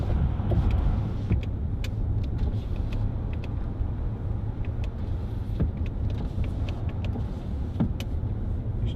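A 2010 Range Rover Sport 3.6 TD V8 HSE on a test drive gives a steady low cabin drone of engine and road noise. Scattered light clicks and taps from inside the car sit on top, and no one speaks.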